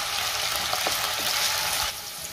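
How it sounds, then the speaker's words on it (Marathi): Potato sautés in hot oil on a gas flame set to medium, giving a soft, steady sizzling hiss throughout. It is fairly quiet, with no talking. "बटाटा 3 ते 4 मिनिटं तेलावरती चांगला परतून"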